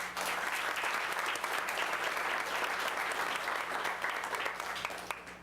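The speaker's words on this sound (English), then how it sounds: "So a round of applause for Home Depot, please." A city council meeting audience claps steadily for Home Depot, a thick, even wash of applause from many hands that holds for about five seconds before tapering slightly at the end.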